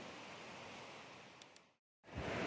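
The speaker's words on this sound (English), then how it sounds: "anytime you hear something roaring that loud, you know you're probably pretty close to a pretty big source of water" Abrams Falls waterfall roaring as a steady, loud broadband rush of falling water that cuts out briefly, then returns strongly.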